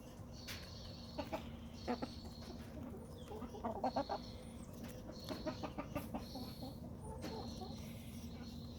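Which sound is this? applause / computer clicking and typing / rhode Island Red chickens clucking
rhode Island Red chickens clucking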